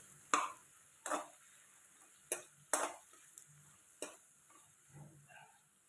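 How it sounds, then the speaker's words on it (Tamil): Chilli parotta masala gets stirred in a pan, with a spoon scraping and clacking against the metal in several separate, uneven strokes over a faint sizzle, close and quiet. "இப்போ இதை நல்லா மிக்ஸ் பண்ணி விட்டுக்கலாம்."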